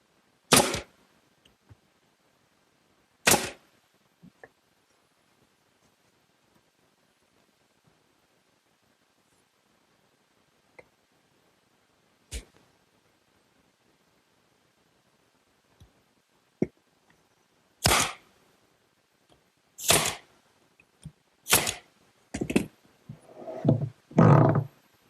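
Galvanized finish nails are driven into garden workbench bins, heard as sharp, isolated taps spread sparsely at first, then coming in a quicker cluster near the end, with quiet gaps between strikes.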